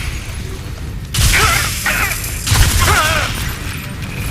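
A K-Volt electric weapon firing in Crysis 3, bursts of crackling electric discharge with warbling zaps, loud and close, in two or three volleys separated by brief pauses.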